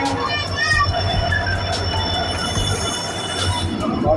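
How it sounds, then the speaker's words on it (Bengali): Train pulling into a station on the way to Kalimpong, high metallic wheel squeals ringing over a low rolling rumble, loud and near, with children and other voices chattering around. "আমাদের ট্রেন ঢুকে গেছে স্টেশনে, 9 মিনিট লেট।"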